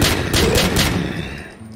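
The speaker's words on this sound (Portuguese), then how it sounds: "Ele morreu com um tiro." A rapid burst of loud, close gunfire in the video game Minions Horror, several overlapping booming shots that fade within about a second and a half.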